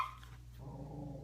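A pet dog gives a short bark or yip at the start, close by, then a low steady hum carries on with no further sounds.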